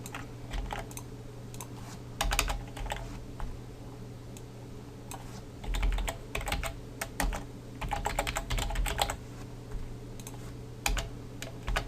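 Computer keyboard typing a database query, with bursts of quick keystrokes separated by short pauses, close and moderately loud over a steady low hum.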